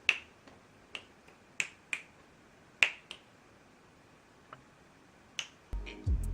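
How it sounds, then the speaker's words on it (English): Crisp finger snaps, about nine of them, close and sharp at an uneven pace over a quiet background, with a brief rustling noise at the very end. "If you have a dog that you have trained to come to you when you snap your fingers"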